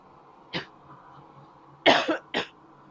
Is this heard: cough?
yes